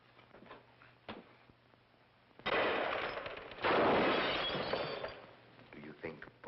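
Gunfire in an old film scene aimed at ghosts, two loud bursts of shots with a crashing, breaking quality, separated by a brief gap, following quieter talk.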